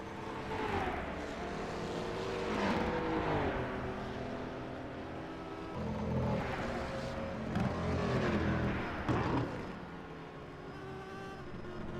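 Historic race cars battle for the 3-litre class lead at Longford, engines droning at a distance and swelling as cars pass in a couple of waves, with pitch shifting through gears.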